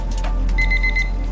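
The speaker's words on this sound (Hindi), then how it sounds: "तो अलार्म भी बज गया।" A Wolpin digital kitchen timer sounds its alarm with a short, thin electronic beep that rises briefly over a steady low background hum.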